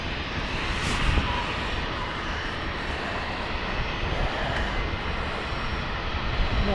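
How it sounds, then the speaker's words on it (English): A business jet starting up its engines at London City Airport, heard as a broad, steady rushing whine that stays level throughout, distant, with faint voices. "We've got BizJet starting up."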